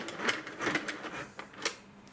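A Sentro knitting machine being hand-cranked, a quiet rhythmic series of plastic clicks and ticks repeating close by for a couple of seconds, with no speech.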